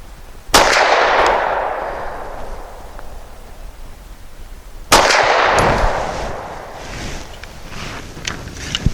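Two sharp Mossberg MC1SC pistol shots ring out about four seconds apart at an outdoor range, each a loud crack with a long decaying echo, no talking.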